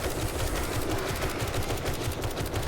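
Rapid automatic gunfire in the 7 Days to Die video game, a dense continuous burst of shots at steady loud level with no pauses.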